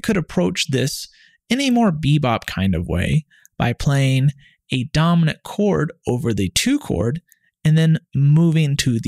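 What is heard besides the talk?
No everyday noises stand out.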